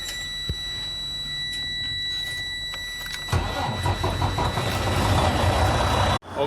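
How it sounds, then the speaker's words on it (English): A Freightliner Cascadia truck's DD15 diesel engine cranks and catches, then settles into a steady rumbling idle, close and fairly loud, with a faint high whine throughout. "And now I'm going to start the engine."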